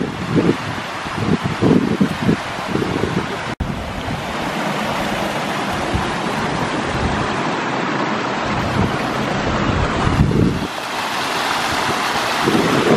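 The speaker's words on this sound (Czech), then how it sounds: "vodopád, našli jsme ho" A waterfall in Ireland roars as a continuous broadband rush of falling water, loud and close, with wind buffeting the microphone and a brief sharp knock partway through.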